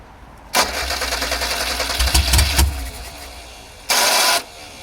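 A Ford Festiva rally car with a freshly freed, previously seized choke linkage cranks and catches for a couple of seconds of rough running, drops away, then gives a second short loud burst, all close by with no talk.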